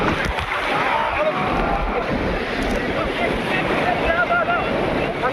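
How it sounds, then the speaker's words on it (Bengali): Sea waves roll and wash continuously on the shore at Digha beach, a steady broad roar of surf mixed with wind buffeting the microphone and faint crowd voices in the background. "আমরা এখন চলে এসেছি সমুদ্রের লাইটে, চলে এসেছি দীঘা সমুদ্র"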